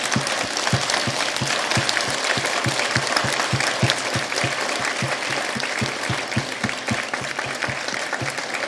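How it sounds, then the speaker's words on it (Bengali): A dense, sustained burst of applause from a large audience honouring medal recipients at a ceremony, steady and loud throughout with many overlapping claps and no speech. "যারা পদক পেলেন তাদের জন্য জোরে একটা তালি দিই"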